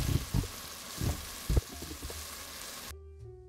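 Food sizzles on medium-high heat in melted butter in a pan while making keto chicken and dumplings, with a steady close crackle broken by a few heavier stirring knocks before it cuts off near the end.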